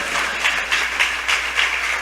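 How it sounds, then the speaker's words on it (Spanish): A church congregation applauds in a Spanish-language service, continuous clapping from many hands swelling in short pulses, loud and close, with no talking over it. "denle ese aplauso al Señor"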